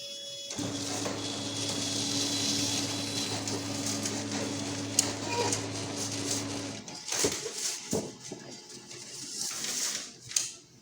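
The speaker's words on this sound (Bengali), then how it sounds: "এটা এখন চালাতেছি মেশিনটি" A photocopier runs after a motherboard repair, giving a steady mechanical whir with a low motor hum for several seconds, then stopping and leaving a few clicks and clunks of paper handling. The sound is close and has no talk over it.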